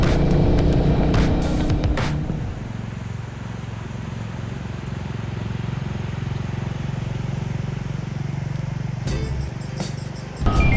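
A Royal Enfield Bullet 350 motorcycle being ridden on a road, a steady low engine drone with constant wind rush heard from the rider's position, with a few sharp knocks near the start and end.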